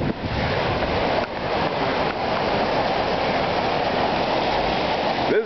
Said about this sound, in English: 15 minutes of rain in Vegas. You get to see how it's running down.